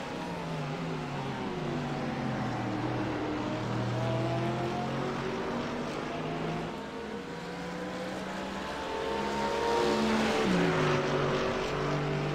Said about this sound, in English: that deep roar from the Mercedes is something to definitely here